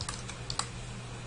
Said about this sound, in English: I think I'm typing this in the wrong place